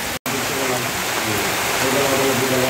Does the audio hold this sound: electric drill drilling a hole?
no